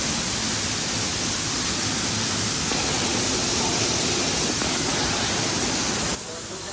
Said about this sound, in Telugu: ఇది వాటర్ ఫాల్ ఇది యాక్చువల్లీ